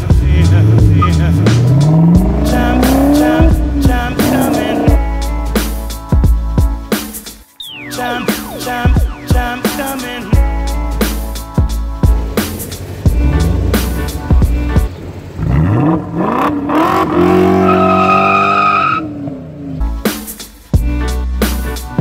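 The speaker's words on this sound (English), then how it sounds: "you gotta check out the exhaust on this, especially when you delete the mufflers" A Maserati Ghibli S with its mufflers deleted roars close by, its exhaust note rising and falling through repeated revs and gear changes, with a brief drop around the middle and a loud climbing pull near the end.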